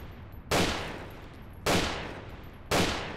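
Three sharp, loud gunshot blasts from guns in the video game Fallout 3 ring out about a second apart, each decaying into a long echoing tail, with no talk over them.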